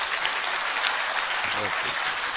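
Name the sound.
loud applause from students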